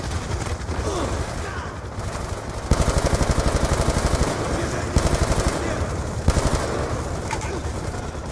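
Rapid automatic gunfire from the video game Call of Duty Black Ops 2, steady bursts of loud close shots with quieter stretches between, layered over game ambience.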